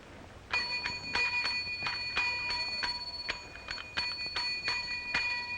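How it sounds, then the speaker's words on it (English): A small bell rings repeatedly in quick, irregular strikes, bright and clear at close range, each ding ringing briefly over a quiet room tone with no speech. "take that bell and put it away"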